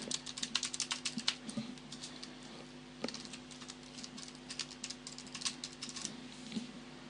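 Keys clatter steadily on a computer keyboard as text is typed, a close, fast run of light clicks with brief pauses, alone without speech.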